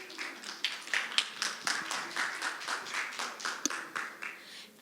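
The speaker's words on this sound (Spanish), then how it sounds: "Fuertes aplausos, por favor." Rhythmic applause from a conference audience at the Lima book fair, many hands clapping in a steady close burst that continues throughout.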